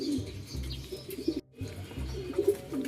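A racing pigeon coos in soft, low repeated phrases close by, the cooing recurring through the stretch with a brief silent gap midway and faint chirps above.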